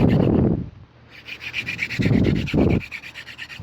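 Horseweed spindle on a hand drill rubbing against an Eastern red cedar hearthboard during fire-making, giving bursts of dry, rhythmic friction scraping that pause and resume, close by.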